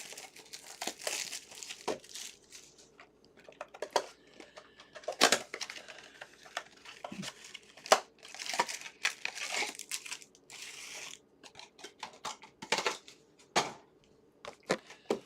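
Foil trading card packs of 2025 Optic Football being torn open by hand: bursts of crinkling and ripping wrapper, close and fairly quiet, in irregular handling bursts with brief pauses and no talking.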